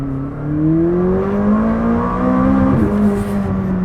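A McLaren 600LT in track mode accelerates hard, its engine note climbing steadily in pitch as it pulls, loud and close with a smooth continuous roar and a brief shift near the end.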